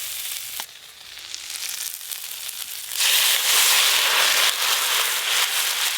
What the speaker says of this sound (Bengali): এবার ঝোলটা ঢেলে দেবো।